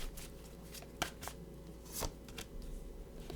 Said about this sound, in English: Let me move these cards over.